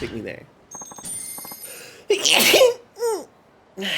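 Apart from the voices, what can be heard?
sneeze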